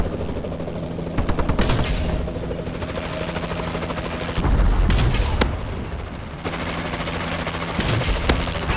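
Paladin gunship firing in Call of Duty: Advanced Warfare, a loud, continuous rotor-and-engine drone with bursts of heavy gunfire and sharp cannon impacts layered on top, intensifying in the middle and again near the end.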